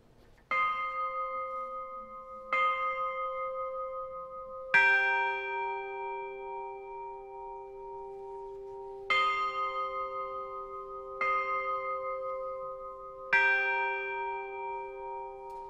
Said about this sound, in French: Nous écoutons les deux cloches do et sol